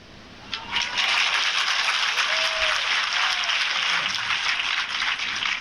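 Sustained applause from a large audience at a spiritual talk, a steady dense wash of clapping that swells quickly and holds loud throughout.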